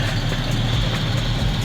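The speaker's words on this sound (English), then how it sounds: "as I was kind of going through the idle tuning, I noticed it was idling pretty high" A 1984 BMW's engine idles high at a steady, continuous rumble. It is close and fairly loud, with a constant low drone and faint higher mechanical hiss, and no talk is heard.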